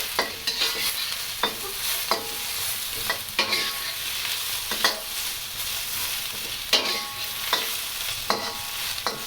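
Onions and mushrooms stir-fry in a wok for shrimp lo mein with a steady sizzle, broken by sharp scraping and clacking strokes of the spatula at an irregular rhythm. No one speaks.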